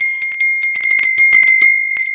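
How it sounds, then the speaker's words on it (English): A small cream porcelain handbell, about five inches tall and embossed with magnolia-like flowers, rung in a rapid series of clear, bright metallic strikes that overlap and ring close and loud with no talk. "This is the sound of your bell and the top of it."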